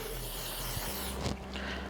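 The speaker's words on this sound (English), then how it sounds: "with my Bold Hold Maxx. This spray just co-signs everything." Bold Hold Maxx adhesive spray misted onto wig lace during a silicone lace install; a close, steady hiss with a short stronger burst partway through.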